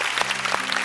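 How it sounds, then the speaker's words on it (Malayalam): Audience applause after a performance on a comedy show stage, a steady wash of many hands clapping that holds at an even level throughout. "ആസിഫിന് ഒരിക്കൽ കൂടി നമുക്ക് നല്ലൊരു കൈയടി കൊടുക്കാം."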